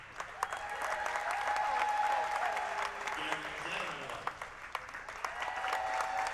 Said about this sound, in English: And you hear the fans. There's really a nice crowd here at North Harford.